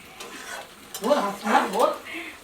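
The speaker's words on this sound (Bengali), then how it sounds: "এখন আমার দিদি এখানে এঁচোড়ের তরকারি রান্না করছে" Jackfruit curry cooks in a pan with a few scraping stirs and a soft sizzle, rising in short bursts after a quiet start.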